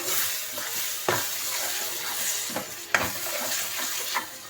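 Mutton curry with chukka kura leaves fries in a pan just after coriander powder goes in, giving a continuous moderate sizzle with intermittent scraping and clinking of the spoon as it is stirred.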